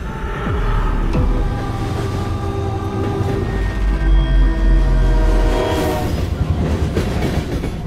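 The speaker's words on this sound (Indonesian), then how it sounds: "muncul serangkaian kereta VOC dari dalam sebuah portal" A VOC train arriving, used as a sound effect in a film recap, rolls in with a loud rumble and clattering wheels while its horn sounds in drawn-out tones, easing off near the end.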